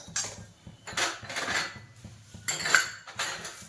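Stone flower spice being dry-roasted in a pan for Maharashtrian kala masala: repeated scraping and clinking of a utensil against the pan in short bursts, moderately close, with no talking.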